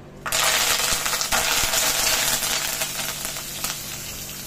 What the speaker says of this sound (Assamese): এয়া মই নৰসিংহৰ পাতকেইটাও ভাজি ল'লোঁ